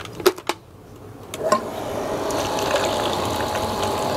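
A booster water pump converted into a well pump starts up and draws water, a few clicks and knocks at first, then a steady rushing, gushing flow with a constant mechanical hum that holds to the end.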